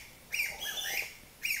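Close, fairly loud bird chirps come in a quick series of whistled calls with short gaps between them. The sound stands alone over a quiet background.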